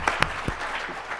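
Brief burst of audience applause at a seminar, a few sharp claps standing out over a steady patter of clapping from the crowd.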